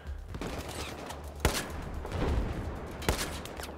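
Battlefield 4 gunfire during a tank battle: a steady rumble of distant shooting and explosions fills the background, broken by two sharp, loud shots close by.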